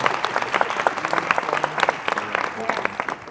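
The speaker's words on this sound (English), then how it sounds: "can we have one more round of applause for our incredible finalists who are up on stage with us here?" A conference audience claps for healthcare innovation finalists standing on stage, a moderately loud, busy patter of many hands with sharp individual claps standing out over the steady crowd noise.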